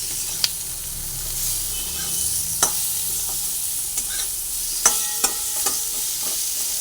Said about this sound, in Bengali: আবার ভালোভাবে নাড়াচাড়া করে করে আলুগুলোকে আমি ভেজে নিই